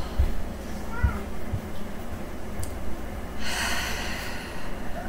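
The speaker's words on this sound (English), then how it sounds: "let's take our 3 deep mindful breaths right now" Deep mindful breaths taken during a guided meditation, a few close breathy inhales and exhales heard over a soft low background hum.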